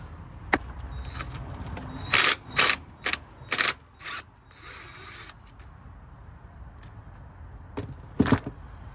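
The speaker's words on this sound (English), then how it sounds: "We're gonna take out those 1/2-inch bolts, so then we're able to drop this bracket down." A ratchet removing half-inch bolts from a transmission bracket: short bursts of rapid clicking ratchet action and metallic clanks, close by in quick clusters separated by quieter gaps, with no talk.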